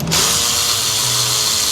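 Power tool whirring close and loud as it unbolts the power steering reservoir on a Ford 5.4 engine, one short continuous burst after a brief start.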